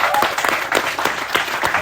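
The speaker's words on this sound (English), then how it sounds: "let's give a round of applause for the parents." A festival talk audience gives a dense, steady round of applause for the parents, many hands clapping close and moderately loud throughout.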